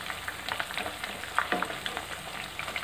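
Chicken pieces fry in hot oil in a pan for crispy chicken fry, a dense close sizzle with constant crackling pops and occasional stirring clinks.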